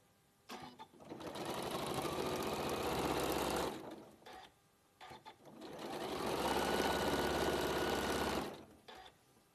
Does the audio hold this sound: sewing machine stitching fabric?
yes